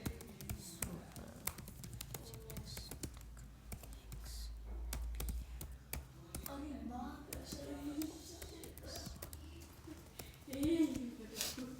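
Steady typing on a computer keyboard while filling in product details on a web form: rapid, close keystroke taps in uneven bursts over a low background hum, with some talk in between.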